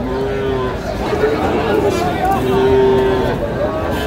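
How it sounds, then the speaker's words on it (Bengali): Cattle moo at a busy cattle market in Brahmanbaria where Sahiwal bulls are sold, long low calls rising over a loud crowd babble of bargaining voices, close and continuous. "হাই পার্সেন্টের গরু"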